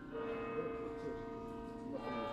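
Church bells ring out in York to mark a royal death, a sustained tolling tone held steady and moderately loud throughout with faint background murmur.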